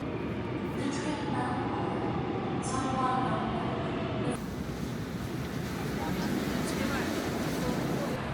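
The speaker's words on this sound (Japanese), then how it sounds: "ということで電車に乗って中心部へと向かっていきます" Rumbling interior of a passenger train heading from Dongdaegu Station toward central Daegu, South Korea, a steady low roar and rattle running throughout with a brief shift partway through, with a voice talking faintly over it.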